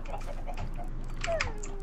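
Chickens cluck in a Minecraft farm scene, a steady run of short clucks close by, with no talk over them.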